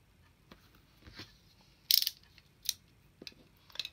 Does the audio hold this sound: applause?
no